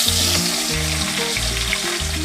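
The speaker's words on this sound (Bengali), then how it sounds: "মুড়োটা ভাজা হতে থাকুক" A fish head, salted and coated in turmeric, fries in hot oil in a wok, giving a loud, steady sizzle and crackle that continues without pause, with a low background melody underneath.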